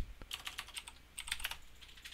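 Quick bursts of keystrokes clatter on a computer keyboard at close range, with short pauses between the flurries.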